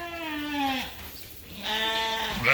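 Sheep and lambs in a barn give two drawn-out, wavering bleats, close and clear, separated by a short pause against a faint background hum.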